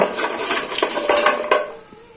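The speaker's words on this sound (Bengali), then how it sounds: "এই করে একদম দেখেন টন টন একদম পাথরের মতো শক্ত হয়েছে" Deep-fried bora pitha, fried until rock hard, is tapped several times in quick succession, making sharp, close, hard knocks and clicks that fade out at the end.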